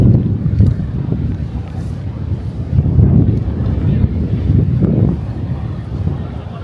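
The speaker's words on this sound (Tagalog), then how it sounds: "Lakas ng hangin." Strong, cold wind buffeting the microphone in a steady low roar outdoors in Taipei, with gusts rising and falling and faint voices underneath.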